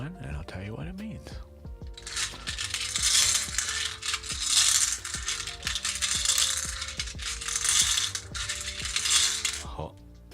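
Small rune stones rattle and clatter as they are shuffled in bursts, with a voice speaking briefly at the start.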